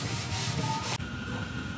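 Sanding on a Mazda Miata body during paint prep, a steady close rubbing scrape that cuts off abruptly partway through, followed by a quieter hum of the room.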